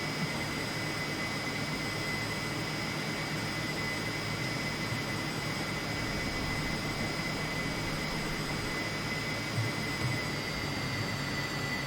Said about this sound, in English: Let's reduce the engine power a bit